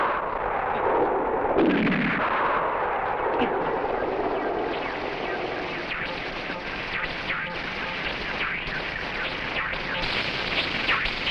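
Gunfire and booming blasts in a 1968 mad-scientist ape film, a continuous loud barrage with a rising whoosh early on and sharp shots scattered throughout the din.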